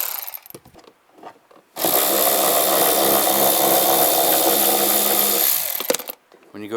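A 10mm socket spins taillight nuts off a 2004-2010 BMW X3, giving a steady, loud, close whirring grind that runs for several seconds between short handling noises.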